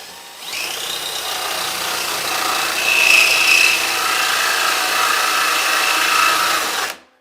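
A power tool run at reduced speed cuts through a metal electrical panel, producing a steady, close grinding rasp that builds after a brief start-up, holds for several seconds, then stops abruptly, with no talking.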